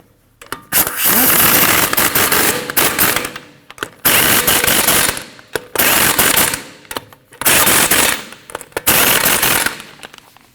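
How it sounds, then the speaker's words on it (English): An impact wrench tightens the five lug nuts on a front wheel of a 2013-2019 Ford Escape in a star pattern, with four loud rattling bursts of a couple of seconds each and short pauses between them. "Now you want to tighten your 5 lug nuts up in a star pattern."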